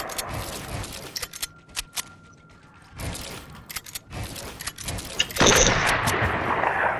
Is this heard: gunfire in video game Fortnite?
yes